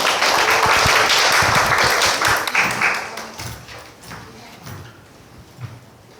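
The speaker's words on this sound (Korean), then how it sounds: "박수로 맞이해 주세요." An audience at an appointment ceremony and policy meeting claps to welcome a speaker, a dense burst of applause that is loud at first and then thins out to a few scattered claps.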